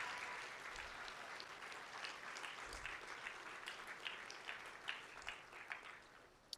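A convocation ceremony audience applauding its speakers, steady dense clapping from a large crowd, fairly distant and soft, continuing throughout with a few sharper claps standing out.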